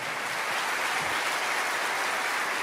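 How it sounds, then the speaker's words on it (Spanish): A church audience applauds steadily during a sermon, a dense wash of clapping with no pauses. "Alguien tiene que aplaudir más que eso, ¿sí o no?"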